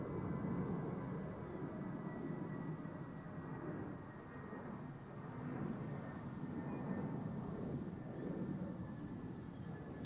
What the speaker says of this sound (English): We have a flight from EasyJet coming up first.